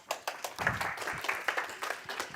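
Sparse, modest applause from a small audience at a tech pitch night, individual claps audible as separate irregular hits rather than a dense roar, fairly quiet and close.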